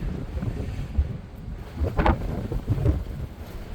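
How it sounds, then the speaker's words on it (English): Strong wind rumbles and buffets the microphone in uneven gusts, with a brief sharper burst in the middle. "Oh, it's windy as can be."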